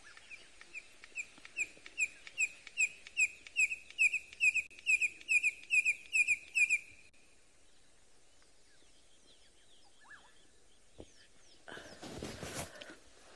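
At dawn on an African safari, a bird calls in a rapid, rhythmic series of about fifteen sharp chirping notes over seven seconds. Then it falls quiet, with faint rustling and a short burst of noise near the end.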